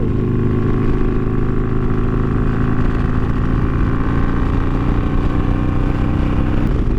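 A Harley-Davidson Iron 883 motorcycle with progressive fork springs and slightly enriched fueling, ridden along a winding mountain road, gives a loud, steady engine drone and wind roar that holds unbroken throughout, with no voices.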